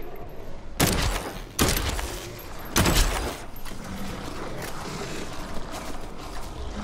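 Heavy gunshots in Dead Island 2 co-op play, three loud sharp blasts spaced about a second apart, followed by a clattering mechanical rattle and lingering game noise.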